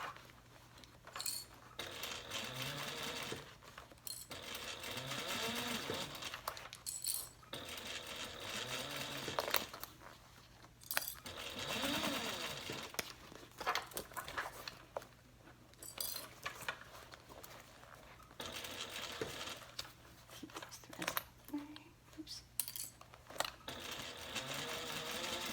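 A Juki sewing machine stitches around the bottom band of a handbag in repeated bursts of rapid mechanical whirring, broken by short pauses and light metallic clinks, heard close with no voices.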